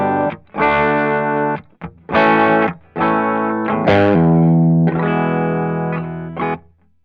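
Clean-toned Les Paul electric guitar played through a Funny Little Boxes 1991 overdrive pedal into the drive channel of a Studio 20 amp, with several strummed chords and ringing notes separated by short pauses, close and full.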